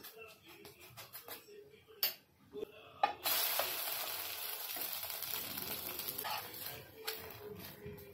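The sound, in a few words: instant rava dosa sizzling on a hot pan with oil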